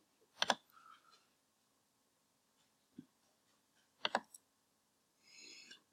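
A few isolated keyboard clicks, sparse and irregular, with short quiet gaps between taps in an otherwise still room.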